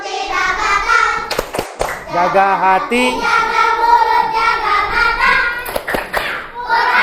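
A group claps hands together in a short rhythmic pattern, a classroom fasting-themed clapping chant, mixed with children's voices chanting and talking close by.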